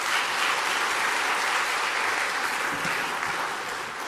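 Congregation applause in a church service welcoming a visiting missionary to speak, a sustained, even wash of clapping from a crowd indoors, tapering slightly at the end.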